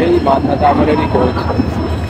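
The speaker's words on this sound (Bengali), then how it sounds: "আমাদের ট্রেন 20 নম্বর প্ল্যাটফর্মে দিয়ে দিয়েছে। ট্রেন ঢুকছে" A passenger train rolls into platform 20 at a busy Indian railway station, a steady, loud rumble of wheels with people talking over it.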